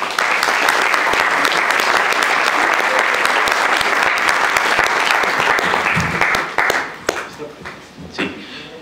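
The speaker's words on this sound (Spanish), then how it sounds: "Pido un aplauso para él." An academic audience at a technological institute in Puebla claps loudly for an introduced speaker, dense sustained applause that holds steady and then thins out and fades over the last couple of seconds as a voice takes over.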